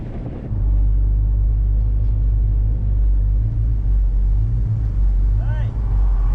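A 1963 car driving, its engine a steady low rumble close and constant throughout, with a brief higher whine near the end.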